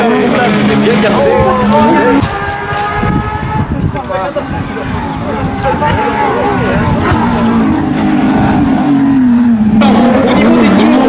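Loud Porsche rally car engines roar and whine past close by at the 2016 Rallye de Wallonie, revving up and down, with a crowd murmuring underneath.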